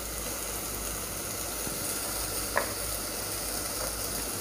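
Spices sizzle in hot oil while masoor pulav is stir-fried, a soft steady frying hiss with a faint clink of a utensil partway through.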